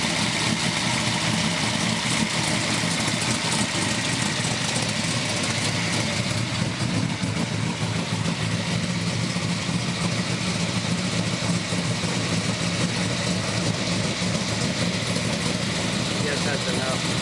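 A 1973 Corvette big block with a wild cam and side pipes idles loudly and continuously, a dense rumbling exhaust that stays steady throughout.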